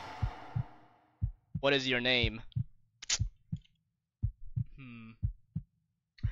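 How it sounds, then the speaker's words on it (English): Low, steady heartbeat thumps pulse in pairs in the Ao Oni Remastered video game main menu, looping under a man's speech and a brief voiced game prompt. "This constant heart beating is kind of annoying in the main menu"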